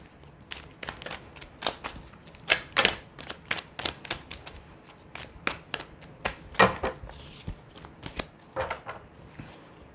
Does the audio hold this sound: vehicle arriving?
no